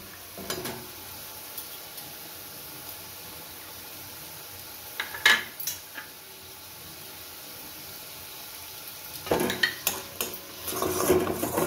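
Tomato with salt and turmeric cooks in a pan under a low, quiet sizzle, punctuated by a few sharp clinks and scrapes of a utensil stirring against metal, with a busier clatter near the end.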